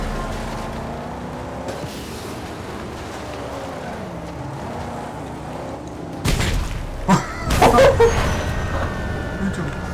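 An explosion in the Mad Max video game sounds as a loud, rumbling boom near the end, over a low droning vehicle engine.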